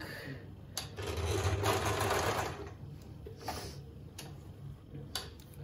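A Victoria 860F sewing machine runs a triple zigzag stitch, its rapid mechanical ticking rising into a steady loud burst before easing off, with a few sharp clicks close by.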